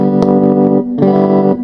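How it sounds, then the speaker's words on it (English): A Fender Super Reverb guitar amp with its vibrato effect switched back on, playing sustained guitar chords that pulse with a wavering tremolo and a reverb tail, loud and close, with no voices. "Now I just switched it off and switch it back on again."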